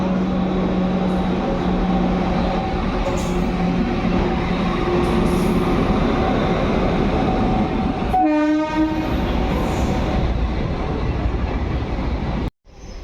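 The Sikkim Mahananda Express rolls loudly into Kishanganj station, its wheels and carriages rumbling steadily, with a horn blast and a hiss before the sound cuts off abruptly.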